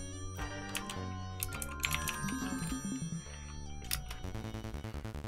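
A phone rings repeatedly in The Textorcist on PC, with tonal electronic ring bursts mixed with game music and clicky typing-like taps, moderately loud and close, with no talking over them.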